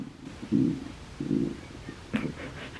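Low, gurgling stomach rumbles come in three separate bursts, close and fairly loud in a quiet room, with nobody talking.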